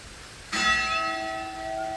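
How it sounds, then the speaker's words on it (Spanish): Church bells at a Christmas-decorated plaza in Orocovis, Puerto Rico, with a single bright bell strike that rings out and then hums in a long, steady decay, heard from a moderate distance. "Nos han recibido con campanas."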